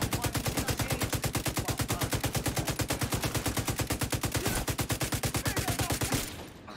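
Sustained rapid automatic gunfire in the shooter game Tom Clancy's The Division 2, a long unbroken burst of evenly spaced loud shots that cuts off abruptly near the end.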